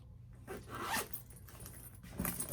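A zipper on a large bag is pulled open up close in a couple of quick rasping strokes, quiet and alone with no talking.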